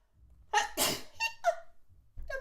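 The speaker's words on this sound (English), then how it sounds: "I think I'm going to sneeze." A single close sneeze bursts out after a sharp intake of breath, followed by a few soft breathy sounds.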